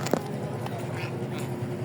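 A duck quacks briefly, fairly near, over a low outdoor hum, on a river.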